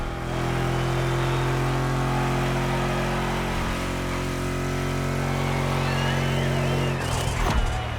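Car engines in The Crew Motorsport racing game, set in Oahu, Hawaii, hum steadily and loudly at a constant drone throughout, with a brief burst of revving near the end.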